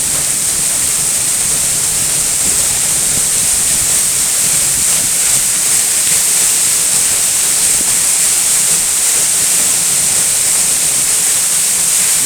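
Eas Mor waterfall sends massive amounts of water crashing down, a loud, steady broadband roar that holds unbroken throughout with no voices over it.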